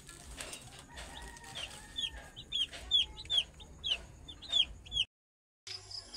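Three-day-old baby chicks peeping, a string of high, clear chirps repeating close by in quick irregular bursts over a low background murmur, broken by a brief silent gap near the end.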